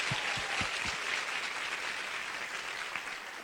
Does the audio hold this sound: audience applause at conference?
yes